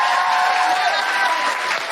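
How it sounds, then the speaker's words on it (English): A live audience breaks into loud, sustained applause with some cheering, a thick wall of clapping that stays strong throughout and eases only slightly near the end. "can I have a huge, huge round of applause for Zoe Brownstone?"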